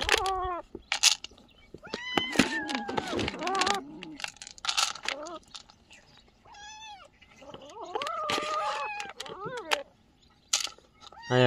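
Several stray cats meowing near and loud at evening feeding time outdoors, repeated rising and falling cries in bursts across the stretch, with brief gaps between calls.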